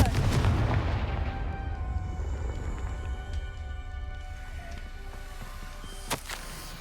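Confringo fire spell blasts in the video game Hogwarts Legacy, a heavy booming impact up front with a rumbling tail, then a quieter sharp crack near the end over a low ambient bed.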